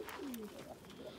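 Pigeons coo softly outdoors, a couple of low, rounded calls over quiet ambient background, with faint bird chirps around them.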